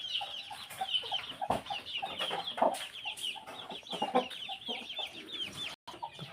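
A Brahma hen clucking in a farmyard, a continuous run of close, chattering clucks and soft calls that rise and fall in loudness, with a few louder squawks and no talking.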